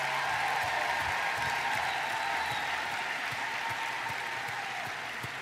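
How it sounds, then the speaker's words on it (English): An audience at a virtual university commencement ceremony applauds the graduates, a dense, continuous wash of clapping that holds steady and fades slightly toward the end. "Let's give a round of applause for all of these outstanding graduates."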